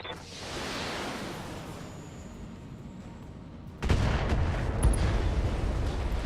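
In BattleTech, mechs fire missiles and a PPC at a turret: a long rushing whoosh builds and fades, then a sudden loud burst of rumbling impacts and booms follows, close and heavy.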